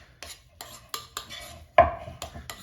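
Keto hamburger bun dough made with almond flour is stirred by hand in a bowl, with a series of close, separate clinks and scrapes of a utensil against the dish and one louder knock near the end.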